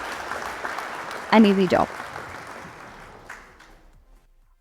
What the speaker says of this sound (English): Let's give them a huge round of applause, please.